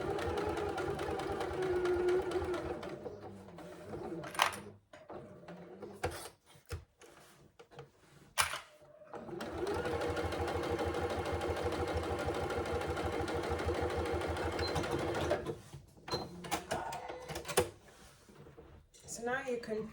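A sewing machine stitches the flap of a zip pouch, its motor whirring steadily in two long runs separated by short pauses with small handling knocks.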